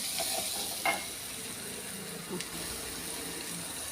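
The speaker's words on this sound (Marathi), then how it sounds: "हे बघा हे असं थोडंसं तळून घेणार आहे" Patwadi masala fries lightly in a pan, a soft, steady hiss with a couple of brief scrapes and clinks.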